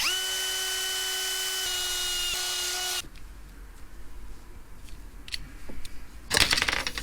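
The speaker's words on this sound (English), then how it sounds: "we're just going to drill 2 holes in this" A power drill whines at a steady pitch for about three seconds while drilling a hole in a piece of plastic, then stops, followed by scraping, handling noises and a burst of rattling.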